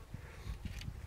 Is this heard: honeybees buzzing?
yes